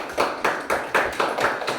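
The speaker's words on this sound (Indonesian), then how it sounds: "tepuk tangan untuk kelompok 1." Fifth-grade class clapping for a group in a steady unison rhythm, about eight evenly spaced strong claps, close and loud with no talk.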